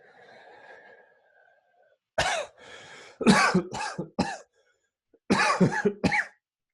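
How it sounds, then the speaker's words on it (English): A faint hum, then several sharp coughs in quick bursts, a pause, and two more close coughs. "Cough 3 times."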